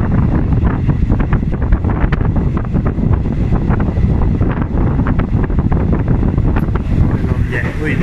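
Strong wind buffets the microphone on a moving train bound for Pranburi from Ratchaburi, constant rumbling gusts with a hint of water and the moving train underneath.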